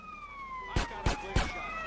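A police siren wails in GTA San Andreas Definitive Edition, its slow sweeping tone steady in the background. Three sharp, loud bangs punch through it in quick succession.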